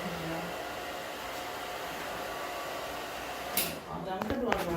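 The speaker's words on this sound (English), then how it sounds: "All done with the blow dryer." A handheld blow dryer runs steadily for several seconds while drying a glossy coated finish, a continuous close airy whoosh that cuts off near the end, followed by brief clatter and handling noise.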